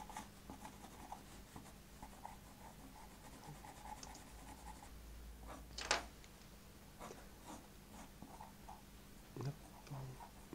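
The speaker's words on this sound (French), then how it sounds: "je suis en train de dessiner à la pierre noire. Sur un papier." Black chalk scratches across paper while a cat is being drawn, a faint close scraping of strokes with short sharp marks, under a soft background hum.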